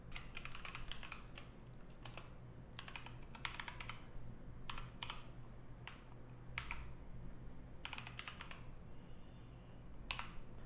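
Quiet computer keyboard typing an SQL query, in short clustered bursts of key clicks separated by pauses, close but soft over a faint steady hum.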